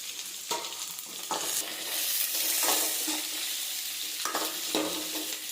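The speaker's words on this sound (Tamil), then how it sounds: "நல்லா வதங்கட்டும்." Garlic and sliced onions sauté in a hot pan, a continuous close sizzle broken by repeated scraping stirs of a spatula, with no talk.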